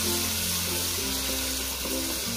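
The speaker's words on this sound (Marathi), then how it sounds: "तर हे बघा मस्त कांदा फ्राय होतोय" Onion frying in a pan for a prawn recipe, a loud dense sizzle filling the whole stretch without a break, close up and with no voices.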